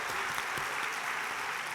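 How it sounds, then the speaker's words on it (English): Steady, dense applause from an audience at a youth summit session, filling the whole stretch with even, loud clapping and no voices on top. "Please, let's give a round of applause."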